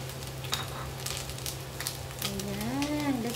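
Eggplant frying in a pan for a leftover grilled chicken sisig, a soft steady sizzle running throughout under a low constant hum, with a short voice rising near the end.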